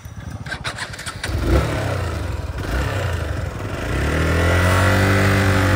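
A motorcycle engine starts and revs hard on a ride out at Tarey Bhir near Namchi in south Sikkim, the note climbing and then holding a loud, steady roar close by.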